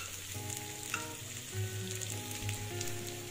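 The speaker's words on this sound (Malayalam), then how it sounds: "കുറച്ച് ചെറിയുള്ളിയും വെളുത്തുള്ളും കൂടി ചെറുതായിട്ട് മുറിച്ചിട്ട് അതും കൂടി ഈ എണ്ണയിലോട്ട് ഇട്ട് കൊടുത്തിട്ട് കുറച്ച് കറിവേപ്പിലയും കൂടി ഇട്ട് കൊടുത്ത് നന്നായിട്ടൊന്ന് ഇളക്കി വാട്ടിയെടുക്കുക." Red chillies, shallots, garlic and curry leaves fry in oil, a short, fairly quiet, steady sizzle with light crackles and a soft background hum.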